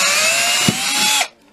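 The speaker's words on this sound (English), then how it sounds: "I'm going to take the small drill bit that I use to put tuners and the like on, and I'm going to drill that hole there" A small drill bit bores a hole in a cigar box guitar, giving a steady high whine for just over a second before abruptly stopping, close and alone.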